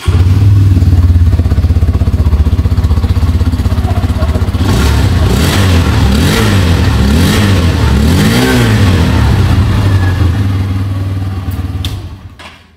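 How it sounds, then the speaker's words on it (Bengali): Hero Xtreme 160 motorcycle exhaust, 2V and 4V engine versions, idling steadily up close and then blipped through several throttle revs in the middle before settling and fading out. "আমি একটু এক্সস্ট সাউন্ডটা দুটো মডেলের আপনাদের শুনিয়ে দিচ্ছি।"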